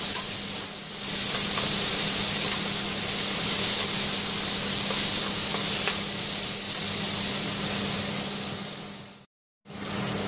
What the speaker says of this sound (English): You have to saute this till the raw smell of the garlic is gone.